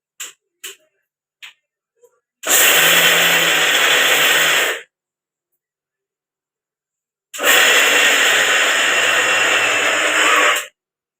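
Kitchen mixer grinder crushing roasted peanuts with jaggery for peanut laddoos: a few brief clicks of the knob, then two loud, steady whirring runs of a couple of seconds each, separated by silence.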